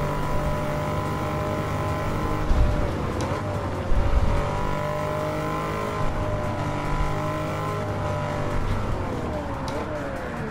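A four-wheel-drive Lamborghini Urus super SUV in Gran Turismo 7, its engine droning and rising and falling in pitch through gear changes, steady and close, with a voice talking over it.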